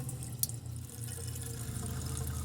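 Water runs steadily from an opened valve on a fifth-wheel RV's plumbing line while old water is flushed during winterizing, a faint continuous trickling hiss with a low background hum.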